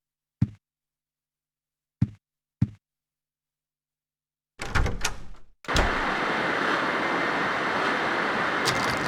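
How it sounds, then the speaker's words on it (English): In the video game Silent Hill 4, three isolated thuds sound against silence, then a locked door rattles in a short, jittery burst before a steady noisy background takes over, with no voices. "The door's shut tight, won't open at all."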